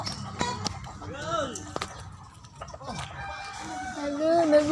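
A chicken clucking and calling close by, with some sharp knocks and a person talking in between.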